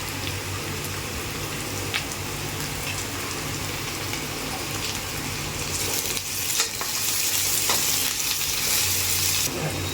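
Chopped onions with crushed ginger and garlic sizzle steadily in a hot pan, a continuous loud frying hiss, with occasional stirring scrapes and the sizzle intensifying toward the end.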